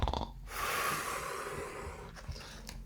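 A voice imitates a sleeping bear's friend snoring, with one long, breathy, raspy snore drawn in and out, close and fairly quiet, plus a few short breaths around it.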